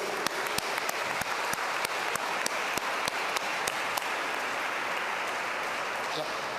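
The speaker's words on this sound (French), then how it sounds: "On peut les applaudir pour les remercier." A church congregation at a Sunday Mass in the Saints-Anges-de-Lachine church claps steadily for several seconds, a dense, even patter with a few sharper individual claps ringing out.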